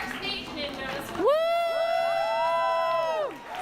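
A crowd cheers for ninja competitors after a brief murmur. A long, loud rising whoop takes over and holds for about two seconds before fading.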